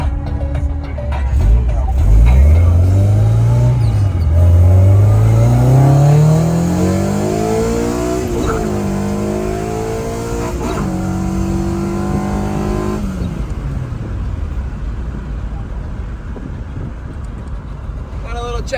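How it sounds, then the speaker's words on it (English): A Honda Integra drives off and accelerates hard, its engine revving up through rising gears with loud, close tones that climb and shift before settling into a steadier cruise, with people talking over it. "Let's go ahead and go for a drive"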